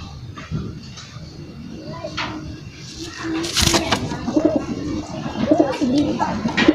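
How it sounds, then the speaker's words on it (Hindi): Low, throaty pigeon coos repeating close by, mixed with rustling and someone speaking over them. "ये वो कबूतर है, देखो"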